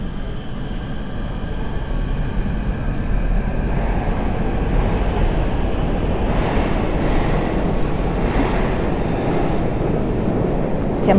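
Loud, continuous rumble and roar of a Kyiv metro train running close by at Khreshchatyk station, steady throughout with rattling underneath.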